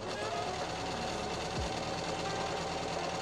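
A sewing machine runs steadily while hemming a button-down shirt, a continuous close mechanical whir with rapid needle chatter and no pauses.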